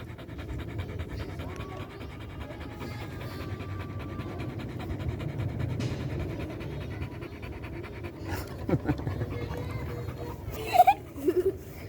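A pitbull pants steadily and rhythmically up close, with faint background noise and a few brief chuckles near the end.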